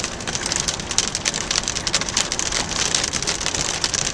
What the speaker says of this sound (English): Oh, big fat sloppy rain.